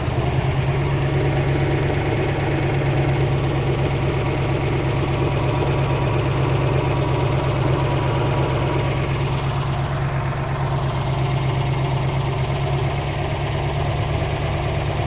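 A Lamborghini Urraco P250 engine idles steadily in a workshop, a loud, continuous low rumble with a slightly uneven, lumpy pulse running unbroken throughout.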